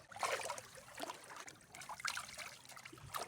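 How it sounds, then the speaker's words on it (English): River water splashing and trickling over a rock as feet and legs are rinsed at a trailhead, a steady close wet wash with a few brighter splashes and no talk. "I'm just rinsing off my feet, my legs, and the river on this rock."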